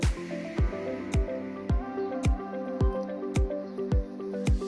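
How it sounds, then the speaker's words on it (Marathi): Curdled milk is strained through a clean cloth over a sieve set on a small pan to make paneer, giving a regular series of wet squishing, dripping plops, about two per second, close and clear with nobody talking. "आता आपण त्याच्यामध्ये ते गाळून घेऊया"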